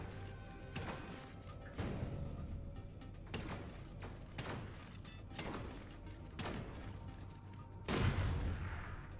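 Savage Shredder shotgun fired in the game Sublevel Zero, about seven heavy booming blasts spaced roughly a second apart over a low droning background, the last one louder and rumbling.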